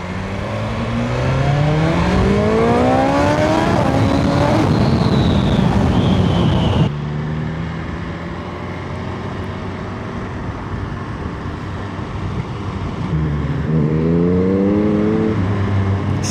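A BMW S1000 XR motorcycle engine revs up through rising gears, loud and close, with wind buffeting; it drops off, then accelerates again.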